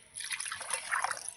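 Spice-rinsing water poured from a bowl into a pot of bata fish curry with greens and potatoes, a soft continuous splashing trickle lasting about a second, close and fairly quiet.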